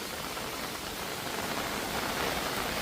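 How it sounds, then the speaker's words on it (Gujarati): A downpour of heavy rain drums continuously on the ground and nearby surfaces outside a temple, a thick, unbroken roar of falling water heard up close, with no talk. "બહુ વરસાદ આવે, એટલો બધો વરસાદ આવે."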